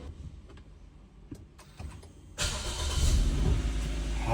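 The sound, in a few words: car engine starting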